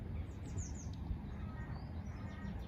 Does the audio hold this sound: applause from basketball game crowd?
no